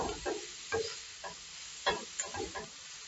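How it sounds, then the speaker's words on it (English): Cabbage soup mixture is stirred in an old skillet, with soft scraping strokes and wet clacks in an irregular rhythm over a faint sizzle, close and quiet. "I have to be really careful when I'm stirring up this mixture."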